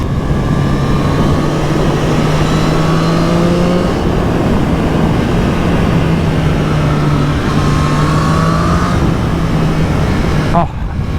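A 2024 Triumph Street Triple R motorcycle engine roars loud and close while riding, its pitch climbing through revs in repeated sweeps, with a brief drop near the end and speech blended in at moments.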